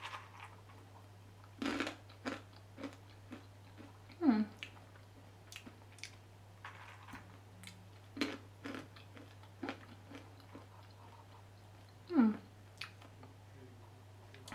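Oven-roasted chickpeas seasoned with chili and herbs are crunched in a quiet room, with sparse, close bites and chews at irregular intervals over a low steady hum.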